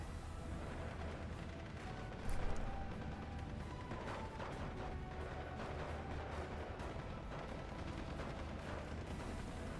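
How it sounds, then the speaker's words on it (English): Aircraft strafing run in a World War II strategy game, heard as a sustained, dense rumble of distant automatic fire and explosions with one louder burst partway through, continuing steadily throughout. "E2 doing a pretty good strafing run there"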